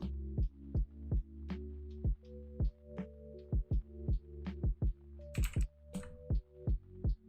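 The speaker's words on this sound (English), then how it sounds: "It still picks up the keyboard." Computer keyboard typing picked up by a microphone during a Final Fantasy XIV stream: a steady run of crisp, close key clacks at an uneven rhythm, with a brief louder clatter near the end and no talking.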